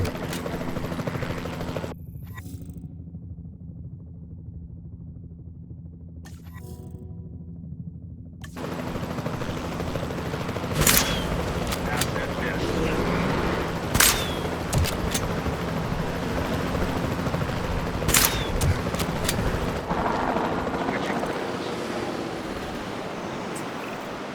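Tranquilizer gunfire rings out from a helicopter in the Jurassic World Evolution 2 video game, with several sharp shots spaced apart over a steady helicopter rotor drone and ambient game noise after a quiet opening.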